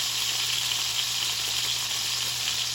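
A beef roast searing in a hot pan, a loud, steady hiss and crackle of frying fat that holds constant without pause, close up and with no voices.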